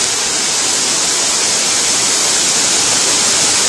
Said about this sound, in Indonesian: inilah dia air terjun Jagir